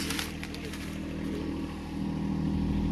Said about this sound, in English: Placing the panels and driving fence posts with the tractor